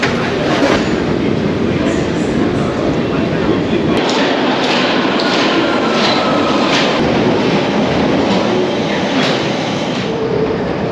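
Underground ambience at Bank station on the London Underground: a constant loud rumble and hiss of trains moving through the tunnels, with faint clicks and knocks scattered through it.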